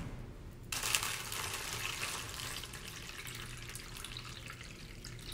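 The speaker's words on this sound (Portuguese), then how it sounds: "Vou adicionar água aqui até a marcação" Tap water starts running after a short quiet moment and pours steadily into a plastic microwave pasta cooker, filling it to the marked line with a constant close splashing hiss.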